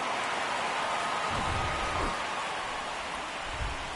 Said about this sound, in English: The rain not bothering them.